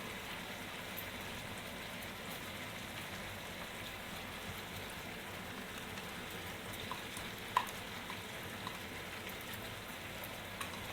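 Fried onion paste sizzling in a pan with black chicken, a faint, steady crackle and hiss like light rain, continuous and even with one small pop near the end, no voices.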